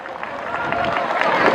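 A crowd at a school event in Fudeda applauds, a dense, steady wash of clapping that swells slightly louder across the short span, with some murmuring.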